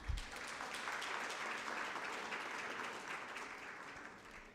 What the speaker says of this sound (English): Can we clap hands for her once more?